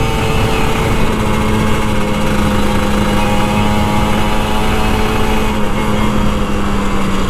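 An older Kawasaki Ninja RR 150 motorcycle on an early workday ride makes a loud, continuous engine drone with steady buzzing harmonics, close and alone without talk.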